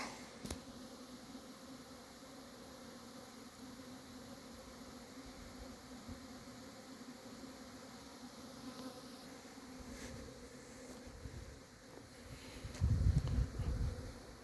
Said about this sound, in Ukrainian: І тут бджолки літають.